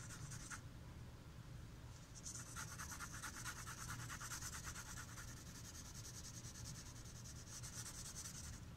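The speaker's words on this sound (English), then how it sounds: "smudge to get an even mixing of value and tone" Soft, steady rubbing of pencil shading being smudged across paper, a close, quiet whispery friction with brief pauses.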